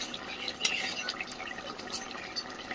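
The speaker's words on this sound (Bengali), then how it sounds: "খুব ভালো করে কিন্তু মিশিয়ে নেব।" A spoon stirs poppy seed and melon seed paste into boiled potatoes, giving soft, wet scraping and squelching at close range, with a few light clinks against the pan and no voices.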